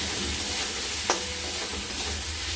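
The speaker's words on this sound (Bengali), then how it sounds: "দিয়ে এটাকে আমরা ভালো মতো করে নাড়াচাড়া করব" Potatoes frying in a pan are stirred with salt and turmeric: a steady broadband sizzle throughout, with one sharp utensil scrape or click near the middle, close and moderately loud.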